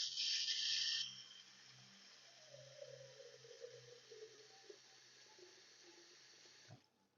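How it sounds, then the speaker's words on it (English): Tap water runs into a soup pot for white bean and ham soup, a steady close rushing stream that starts loud and settles into a softer continuous pour before stopping. "And if I need to add a little bit more water"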